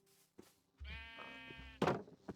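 A sheep in Minecraft gives a single drawn-out wavering bleat, close and clear, framed by soft thuds and a sharp rustling burst near the end.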